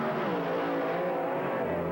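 Drag racing cars roar steadily at a drag strip, a dense, loud engine blare holding for about two seconds with a slight pitch drift as they run.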